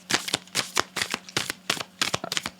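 Tarot cards shuffled by hand in quick bursts, a crisp riffling flutter repeating about every half second, close and fairly quiet, with no talk over it.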